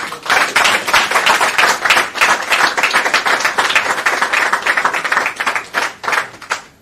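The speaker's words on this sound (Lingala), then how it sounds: "que je vous demande aussi d'applaudir" Crowd applause in a formal ceremony hall honoring the vice-minister of Hydrocarbons, dense sustained clapping from many hands, loud and continuous throughout with no speech.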